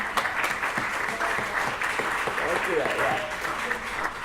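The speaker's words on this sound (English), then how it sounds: "let's give him a round of applause" Audience applause at a pre-TEDx event in Los Angeles, a dense burst of clapping that holds steady throughout, with voices talking beneath and through it.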